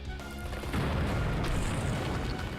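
A bomb explodes in Hyrule Warriors with a deep rumbling boom that swells and lingers for a couple of seconds, loud and dense with crackling debris.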